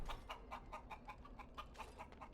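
Chicken clucking in the video game Dragon Age: Origins, a quick run of short, evenly spaced clucks over a low background hum, fairly faint with no talking.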